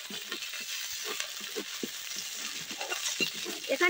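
Ground coriander and Kashmiri chilli powder fry in a pan, heard as a faint, soft sizzle with quiet, irregular stirring scrapes close by.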